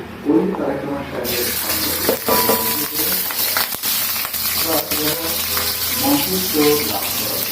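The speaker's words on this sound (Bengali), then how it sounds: "এই যে পেঁয়াজ কুচি দিয়ে দিলাম। এখন এটাকে ভেজে নিব।" Chopped onions hit hot oil in a pan for a vegetarian dish and set off a loud, steady sizzle and hiss that starts abruptly and keeps crackling close by throughout.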